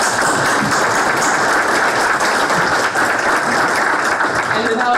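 A conference audience at a 2019 ethics conference keynote applauds, producing a loud, dense and unbroken wall of clapping throughout, with faint voices mixed in.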